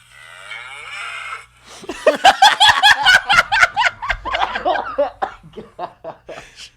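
Cattle mooing close and loud in a long, wavering series of calls, breaking into rapid pulsed bellows that sound almost like laughter, with a steady low hum before the calls start.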